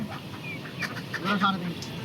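Native desi chickens cluck in a busy market where ducks and pigeon chicks are sold, soft clucks and chirps coming and going under nearby chatter and stall noise.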